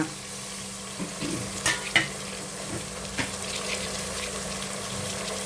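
Field beans and tomato frying in oil in a pan, a continuous close sizzle and bubbling hiss with a few soft clinks and stirring scrapes scattered through it, no voices.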